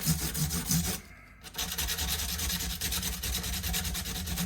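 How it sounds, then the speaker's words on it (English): Sandpaper rubbing along the stainless steel fret edges of a Martin Road series acoustic guitar during a re-fret, repeated close back-and-forth rasping strokes with a short pause early on. "Look how it mashes up the sandpaper really quickly."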